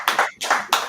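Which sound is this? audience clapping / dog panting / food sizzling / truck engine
audience clapping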